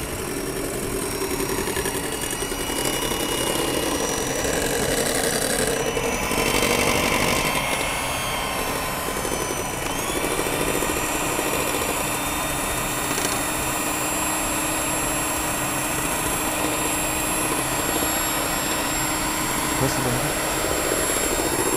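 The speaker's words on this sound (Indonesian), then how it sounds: "Kita kocok. Nah, sampai dia mengembang ya." An electric mixer whips klappertaart batter, a steady whirring drone running throughout at moderate volume while a person talks over it.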